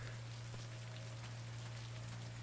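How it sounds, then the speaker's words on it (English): Rain falls steadily in the video game Cataclysm: Dark Days Ahead, a soft continuous hiss with faint drop ticks over a constant low hum, with no talk. "And it's still raining."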